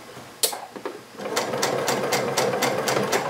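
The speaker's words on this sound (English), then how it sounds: "we're just going to sew a wavy line" A sewing machine fitted with a 1/4 inch foot sewing a slow wavy line, starting in short stuttering bursts and then settling into a steady close, rhythmic stitching hum with regular needle clicks.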